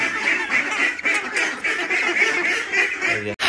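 A flock of ducks quacks continuously, many overlapping calls close by, steady and busy throughout with no pauses.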